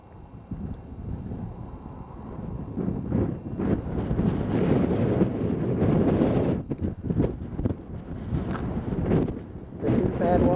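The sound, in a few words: wind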